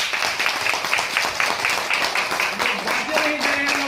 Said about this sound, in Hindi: तो इनके लिए जोरदार ताली बजाइए